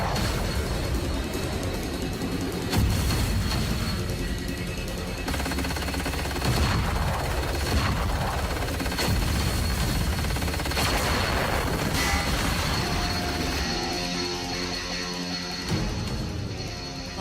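Coil gun fire in an anime battle, a series of heavy booming discharges and crackling blasts over a dense, roaring background of effects and music.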